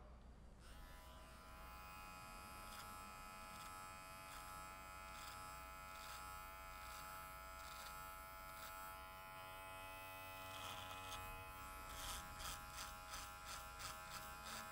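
Electric beard trimmer cutting a short beard, a steady close buzzing drone that holds evenly throughout with slight shifts in pitch and texture near the end as it moves across the hair.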